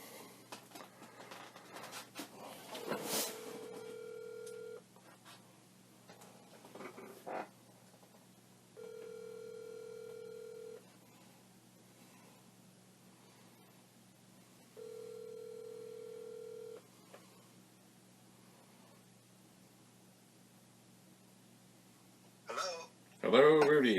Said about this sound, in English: Alright, I'm going to call Rudy, I think.